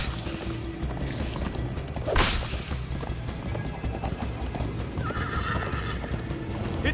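Horse galloping with clip-clop hooves and a loud neigh in the Minecraft Story Mode video game, the rhythmic hoofbeats steady throughout over game background noise.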